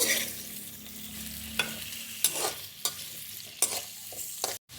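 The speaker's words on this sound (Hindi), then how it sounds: "आलू को हमने 2-3 मिनट अच्छे तरीके से फ्राई कर लेना है।" Potatoes frying in a karahi, a close hissing sizzle punctuated by several sharp spoon scrapes and clinks while stirring, ending with a brief pause.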